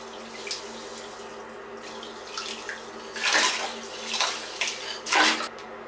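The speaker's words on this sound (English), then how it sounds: "I'm gonna start prepping my bath right now." Hot running water pours steadily into a filling bathtub, with a few louder splashy surges standing out near the microphone.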